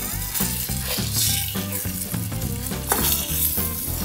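Thin salmon fillets frying in a pan for salmon teriyaki: steady loud sizzle with rhythmic stirring and scraping in the pan, close up and without talk.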